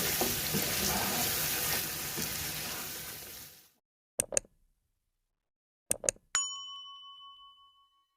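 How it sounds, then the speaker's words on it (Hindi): Onion and mutton fry in a pan for Afghani mutton karahi, a dense close sizzle that fades out after a few seconds, followed by a couple of sharp clinks and a ringing metallic ding that decays slowly, with no voices. "और हम इसको अब भूनेंगे।"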